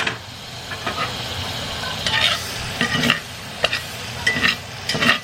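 Butter sizzles in a frying pan before burgers are smashed, a soft steady crackle broken by occasional light utensil clinks, close and fairly quiet.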